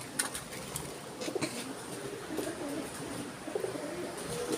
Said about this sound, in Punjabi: ਆ ਗਏ ਆਪਣਾ ਵੱਡਾ ਰੱਤਾ ਕਬੂਤਰ